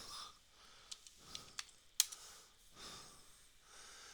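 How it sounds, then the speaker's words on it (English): A computer keyboard clicks in a few quiet, scattered keystrokes with pauses between, close and faint, beneath soft breathing and no speech. "I'm just going to type it in there"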